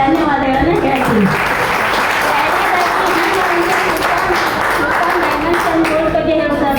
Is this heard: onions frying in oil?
no